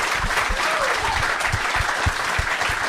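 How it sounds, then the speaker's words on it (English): A live comedy show audience gives a guest a big, steady round of applause, dense clapping filling the room for the full stretch. "one big round of applause for my brother Vinny"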